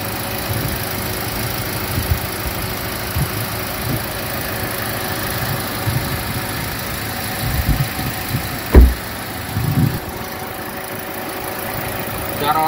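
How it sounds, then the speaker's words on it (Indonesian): A Daihatsu Terios engine idles steadily with a low, continuous rumble, a few brief knocks and thumps rising over it near the end. "cek dulu kondisi mesinnya biar dengar kayak apa sih mesin Terios ini"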